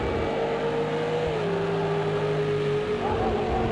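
Race car accelerating hard out of a hairpin at the Nürburgring GP in Project Cars 2, a loud sustained engine drone with a tone that climbs steadily through the clip.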